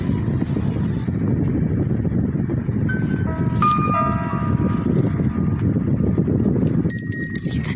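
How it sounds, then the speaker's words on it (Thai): A bell rings in a horror video game, giving a few clear metallic chimes over a steady, loud rushing background. "กระดิ่งกระดิ่ง"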